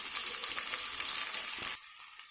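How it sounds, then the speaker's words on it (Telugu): Sliced onions frying in oil in a pan for a barbati potato curry, a dense bright close sizzle that drops suddenly near the end to a quieter hiss. "ఆనియన్స్ వేగాయి కదా"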